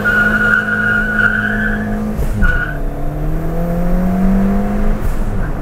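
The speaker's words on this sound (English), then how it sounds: "Oh, that was a big burnout." Ford Fiesta ST MK7 fitted with an induction kit doing a big burnout, loud sustained tyre squeal over a revving engine that dips and climbs in pitch, close by and continuous with no talking.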